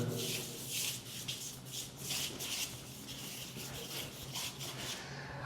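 Decorative plaster is smoothed over an interior wall with a trowel, giving a continuous close scraping and rubbing with repeated strokes, alone without talk.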